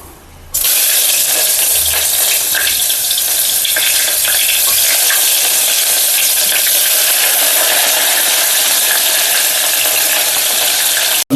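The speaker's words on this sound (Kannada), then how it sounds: "ಸೊ ಫಸ್ಟು ಆಮೇಲೆ ಈರುಳ್ಳಿ ಹಾಕೋಣ." Onions drop into hot oil in a pan for biryani and burst into a loud, continuous sizzling hiss that holds steady for about eleven seconds before cutting off.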